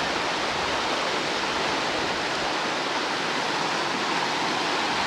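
Rushing water of a flooded creek roars in a dense, steady wash close by, with no voices over it.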